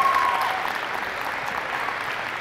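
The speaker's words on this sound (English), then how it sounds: "let's give all of these 8 athletes and their parents a big round of applause" Sustained applause from an audience at a high school winter college signing event honoring eight athletes and their parents, a steady dense wash of clapping throughout with no pause.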